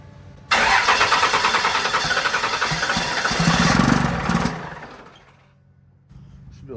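A GT turbo engine fires up abruptly after a moment of quiet, roars steadily for about four seconds, then winds down, with a low idle rumble returning at the end.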